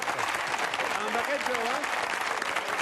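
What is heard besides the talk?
audience applause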